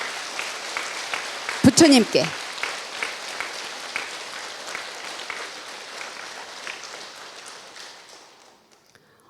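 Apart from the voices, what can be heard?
congregation applauding for the Buddha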